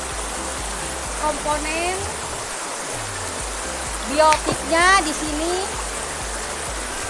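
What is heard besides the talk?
river flowing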